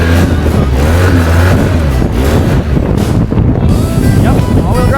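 An old Polaris Sportsman ATV runs in all-wheel drive through snow in a Michigan winter, its engine droning loud and close with rising revs, buffeted by heavy wind noise on the microphone.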